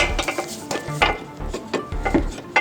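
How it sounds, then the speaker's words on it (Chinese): A ratchet wrench clicks in short, irregular bursts while loosening 10 mm screws on a car bumper, close and fairly loud with no talk. "先松这一颗，然后再松下面一颗。"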